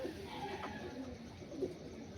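Malwai pigeons, including a red female, coo softly in short, low, throaty calls at close range against a quiet background.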